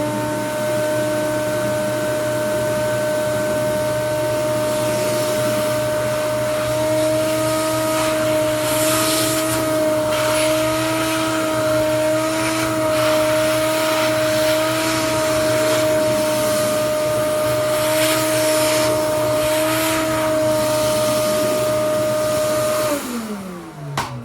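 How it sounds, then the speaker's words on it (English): A vacuum cleaner sucks up loose brick dust inside a pottery kiln under repair, a steady, loud motor whine with a constant hum that runs unbroken for over twenty seconds before cutting off near the end. "I need to vacuum it again because I've disturbed the brick a little"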